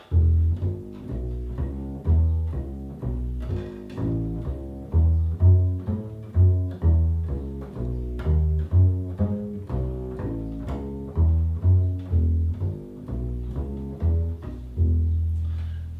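A bass guitar plays a steady, looping blues line in low, plucked notes, loud and alone with no voices.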